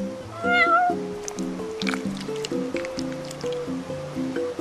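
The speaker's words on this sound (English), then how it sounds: "You're one spoiled cat." A cat meowing in the video game Final Fantasy XV, one clear meow near the start over light, bouncy background music.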